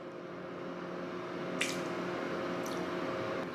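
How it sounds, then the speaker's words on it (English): A head dips into a cup of water with a brief wet squish, then a softer second splash follows, over a steady low background hum. "you could dip your head into this cup of water instead!"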